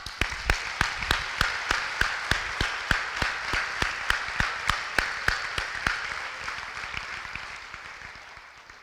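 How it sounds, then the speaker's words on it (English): An audience at a lecture applauds in a slow, steady rhythm of distinct claps, evenly spaced and moderately near, gradually thinning and fading over about nine seconds with no voices. "we owe a round of applause for Betty Check."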